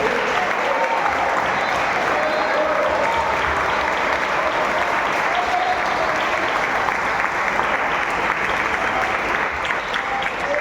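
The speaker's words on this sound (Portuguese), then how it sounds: "Você pode aplaudir esse Jesus maravilhoso?" A congregation at a Baptist church service claps together in sustained, loud, dense applause that fills the room evenly for about ten seconds.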